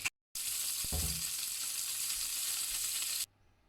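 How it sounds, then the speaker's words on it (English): Salmon seasoned with salt and pepper fries in a little light oil, giving a steady, close sizzle that starts abruptly after a brief knock and cuts off just as suddenly. "I salt and peppered the salmon, and it's just in some light oil and cooking"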